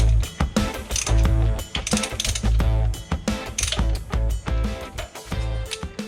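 A ratchet clicks in quick repeated bursts while tightening carburettor bolts in a crisscross pattern on an XW Falcon's 351 Cleveland V8, close and loud, with brief pauses between strokes.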